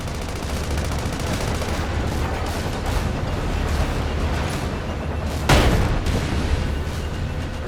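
Continuous rapid gunfire in the video game Sand Land, dense bursts throughout with a heavy cannon boom cracking out partway through, loud and close.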